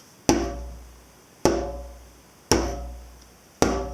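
Four deep whole-palm bass strikes on a djembe, evenly spaced about a second apart, each with a booming low thud that rings out and fades.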